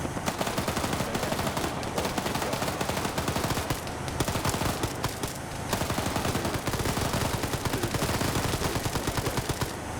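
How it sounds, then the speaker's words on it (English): Dense, continuous video game gunfire, rapid machine-gun bursts and overlapping shots forming a loud, unbroken fusillade for the whole stretch, with no voices. "I can't hear you over the gunfire, buddy."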